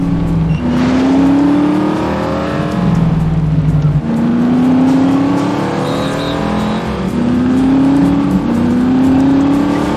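A car engine in the video game The Saboteur revs through repeated rising gear pulls, each climb ending in a shift and starting over, loud and continuous with no speech.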